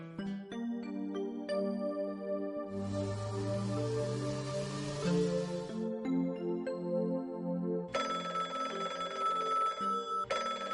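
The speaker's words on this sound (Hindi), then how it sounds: "किसका फोन है? पता नहीं, अननोन नंबर है।" A phone rings with an incoming call from an unknown number, its melodic ringtone repeating steadily and clearly for about ten seconds, with no talking over it.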